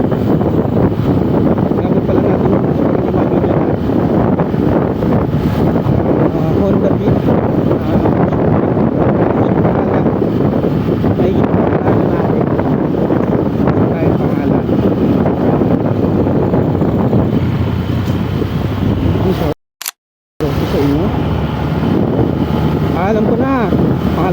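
Motorboat engine droning steadily on the water near Sabang, Camarines Sur, heavily mixed with wind buffeting the microphone, loud and continuous with a brief cut near the end.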